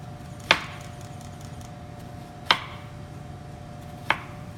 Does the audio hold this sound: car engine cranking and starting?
no